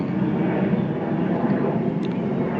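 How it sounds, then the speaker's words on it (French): Aeroplanes passing overhead under overcast, poor weather, a steady broad roar of engine noise that stays loud and even throughout with no voices. "Il y a des avions, malgré le temps qui n'est pas bon."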